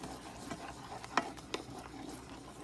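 Caramel sauce boiling in a pan while being stirred, with a soft steady bubbling bed and a few sharper scrapes of the spoon, fairly quiet and close.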